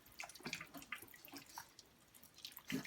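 Bone broth strained from a pot, the liquid splashing and trickling into another pot in uneven gurgling pours, fairly faint and close.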